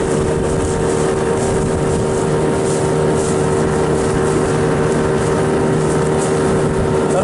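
A motorboat engine droning loud and steady at sea near a fisheries inspection post, a constant close hum with wind rush and no break.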